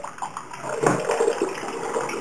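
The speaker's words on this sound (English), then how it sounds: "you just give that a little press on its own, and that should start flowing freely" Apple juice flows and trickles from a hand-operated threaded cider press, a soft watery splashing that grows a little fuller partway through, faint and close.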